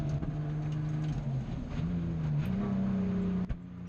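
A Nissan 180SX cruising around Winton race track, its engine droning steadily from inside the car with a gently rising and falling pitch as revs shift, continuous and moderately loud.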